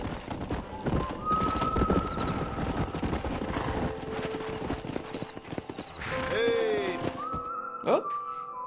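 A stallion in the Red Dead Redemption video game: steady clip-clop of hooves with a loud whinny near the end, mixed with voices talking and scattered game sounds.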